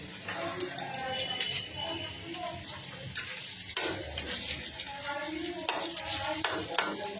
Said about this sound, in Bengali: লঙ্কাগুলো তেলে দিয়ে দিচ্ছি, সব ভালো করে ভেজে নিতে হবে।